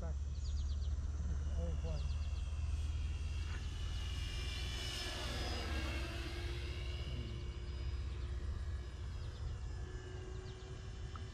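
Hobby Zone Corsair RC model plane flying overhead at a club field, its small electric motor whining as it makes a close pass with a rising and falling pitch, with bird chirps and outdoor background around it.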